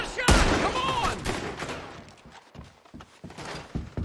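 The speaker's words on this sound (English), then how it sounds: "They're shooting right at us!" Gunfire in a Red Dead Redemption 2 shootout: a loud close shot at the start followed by scattered, repeated bangs, mixed with shouting voices.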